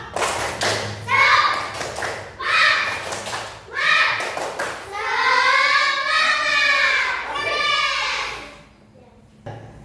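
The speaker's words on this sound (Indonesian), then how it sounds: "Mari kita tepuk semangat dulu. Tepuk semangat." Schoolchildren in a classroom perform a patterned spirit clap, bursts of rhythmic claps and taps in groups followed by loud chanted voices of the class joining in, all close and lively.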